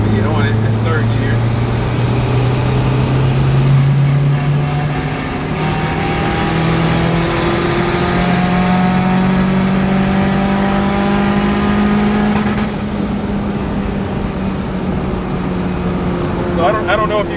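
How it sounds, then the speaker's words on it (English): A car engine pulls hard in third gear, its pitch climbing steadily in rising steps, then breaks up and stumbles at the same point, loud and close inside the cabin. "it starts to break up at that same RPM every time"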